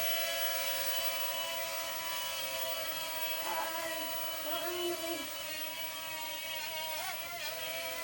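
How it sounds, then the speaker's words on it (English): Small FPV racing drone motors arming and spinning up indoors, a steady high-pitched electric whine with short chirping pitch changes and brief warbles, close by and fairly quiet, with no talking. "in order to initialize the motors, I pull the sticks down into the right, or down into the center"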